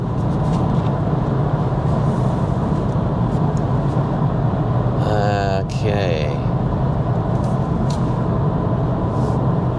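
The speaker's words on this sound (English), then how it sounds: "It's just a little bit of road noise" Steady broadband road noise inside a 2022 Audi S3 on the move, a constant low rumble under a brief spoken word near the middle.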